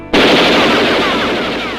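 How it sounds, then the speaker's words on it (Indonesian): A Thompson automatic gun firing: a sudden, loud, sustained burst of rapid gunfire that starts abruptly and rolls on with a harsh, echoing roar. "dengar tembakan yang dengan senjata otomatis Thompson itu kan suaranya kayak"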